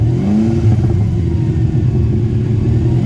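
TVR sports car with a custom exhaust and ACT sports muffler held steady at 3,000 RPM, a loud continuous low engine drone with a steady exhaust rumble throughout.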